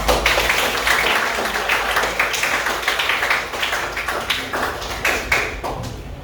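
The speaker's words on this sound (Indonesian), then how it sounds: "tepuk tangan semua" Sixth-grade classroom pupils clap together in a dense, steady burst of applause lasting several seconds, close and loud, with a faint voice underneath.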